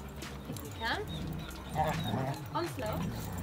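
Dogs at a doggy daycare gym whimper, yip and give short barks in quiet, scattered outbursts, with faint background voices and indoor room noise.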